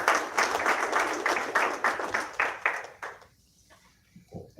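A crowd at the Dempo Challengers football jersey launch applauds a speaker stepping up to the mic, a lively burst of clapping that fades after about three seconds into near quiet with a faint sound.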